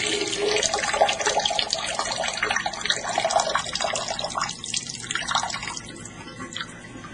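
Dirty gray soaking water, which has been rinsing dandelion and parsley with grapefruit seed extract, is poured out of a roughly 3-liter container, giving a steady close splashing and trickling that thins toward the end.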